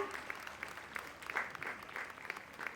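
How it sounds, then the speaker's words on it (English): Applause from the audience at a law school valedictory ceremony, a faint, steady patter of many hands clapping heard from a distance with no talk. "A big round of applause for all."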